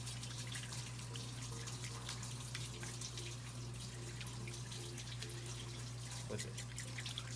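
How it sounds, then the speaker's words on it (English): Tap water runs steadily into a sink while a regular toothbrush scrubs a fresh mackerel, with faint scraping and dripping over a constant low hum throughout. "Now add water and scrub."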